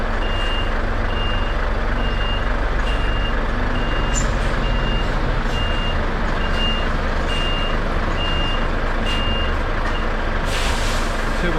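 An HGV truck reverses under a loud, steady engine rumble, with evenly spaced high reversing beeps repeating close by and a short hiss of air brakes near the end.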